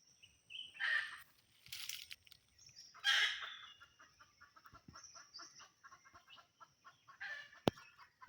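A rooster and hens clucking and crowing outdoors, several loud bursts spread over the clip with softer clucks in between, no talking.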